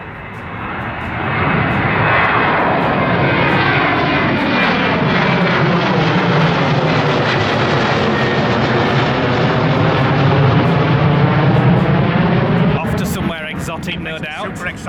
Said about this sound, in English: It looks like a Ryanair that's going down there, so that'll be taking off and coming over us in a few minutes.